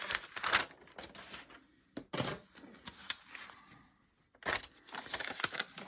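Paper being torn by hand for a junk journal, with several short ripping bursts separated by pauses, close and fairly loud with no talking.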